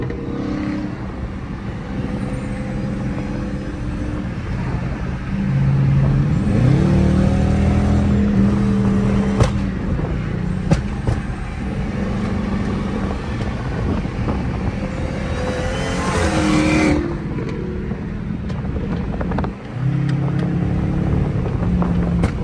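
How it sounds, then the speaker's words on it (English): Dodge Charger R/T and a Demon-styled Charger drive along a highway, with engine drone and revving heard from inside the car, wind noise steady throughout and a swelling surge in the middle. "Two illegal ass Dodge Chargers taking over the highway"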